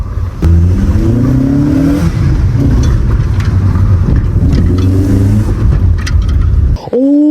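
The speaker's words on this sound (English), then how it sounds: "Is that the best sounding car you've ever heard, or what?" A 1994 car engine fitted with a pod filter, the airbox cut away, revs loudly and steadily with rising and falling pitch, holding near and strong before a sharp drop and a final quick rev at the end.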